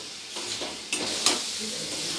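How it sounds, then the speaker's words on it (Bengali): Small fish, potatoes and mango sizzling in a hot pan while being stirred and sautéed, a steady close frying hiss with a couple of sharp scraping stirs. "এবারে মাছগুলো দিয়ে আলু আম সব কিছুর সাথে খুব ভালো করে একটু কষিয়ে নেব"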